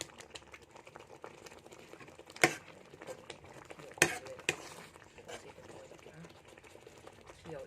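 A mixture simmering in a pot for a Thai-style khi lek (cassia leaf) stew, heard as a soft, steady low bubbling and hiss with a couple of sharp clatters partway through.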